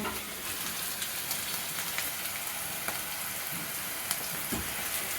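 Chicken curry with garlic paste frying in a pan, a soft continuous sizzle with scattered crackles and light stirring, close but quiet and without speech.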